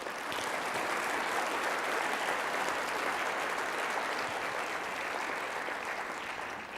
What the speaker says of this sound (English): let's give another round of applause to our mayor and superintendent for a great speech